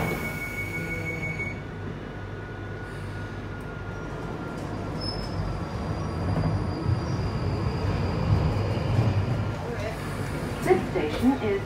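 A London Underground Northern Line train rumbles steadily through a tunnel, the noise growing louder with rattles and faint wheel squeal toward the end, under a recorded on-board announcement.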